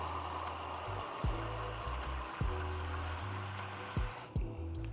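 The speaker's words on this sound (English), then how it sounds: "I like to pour it in slowly and stir it as I add the water." Water poured slowly from a cup into flour batter for Belizean conch fritters while it is stirred, a continuous close trickling and splashing with occasional soft knocks from the bowl.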